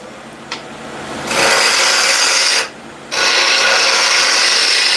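A spindle gouge turns wood on a lathe: a quieter motor hum and a tap give way to a loud, continuous rasping hiss of the cut, which pauses once briefly before resuming, close and with no voices.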